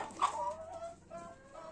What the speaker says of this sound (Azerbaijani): Hazırda burada məsələn mənim toyuqlarım görürsünüz, eşələnirlər.